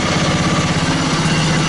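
A riding lawn mower engine that runs rich idles close by with a steady, throbbing low rumble and constant mechanical vibration, loud and unbroken with no voices over it.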